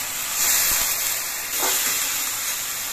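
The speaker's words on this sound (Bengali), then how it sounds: "পেঁয়াজ আর রসুন বাটাটা লালচে রং ধরিয়ে ভেজে নিয়েছি। পেঁয়াজ রসুনের একটা সুন্দর সেন্ট বেরিয়েছে। এবার এর মধ্যে আমি কাঁচা লঙ্কা বাটা দিচ্ছি" Green chili paste drops into frying onion-garlic paste, giving a soft, moderately loud hiss and sizzle with a brief clatter, for a Bengali catla fish kalia.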